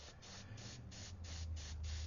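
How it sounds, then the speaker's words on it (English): A steady airbrush hiss as paint is sprayed and layered onto a portrait, faint and continuous with soft pulsing as the trigger is worked, no voice over it. "So I'm just going to keep on spraying here and laying it in."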